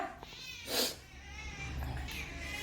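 A cat meows once, short and fairly faint, in a home kitchen, with a steady low background hum and no talking.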